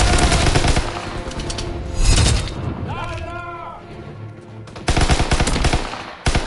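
Rapid submachine gun bursts from Call of Duty: WWII gameplay, loud and close, firing in several sharp volleys with a pause in the middle and a voice talking over the action.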